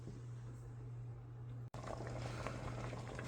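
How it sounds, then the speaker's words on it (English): Ham alfredo pasta sauce bubbling in a pot: soft, faint burbling and popping under a steady low hum, with a brief dropout midway before the simmering resumes slightly livelier. "Okay, that is bubbling."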